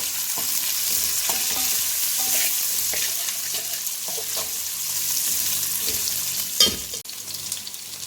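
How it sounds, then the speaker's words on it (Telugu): Steady sizzling of tomato, green chillies, onion and curry leaves frying in a pan for Rayalaseema fish curry, with occasional stirring scrapes and a brief louder clatter near the end, no voices. "టొమాటో పచ్చిమిర్చి వేసుకొని ఫ్రై చేసుకోవాలి"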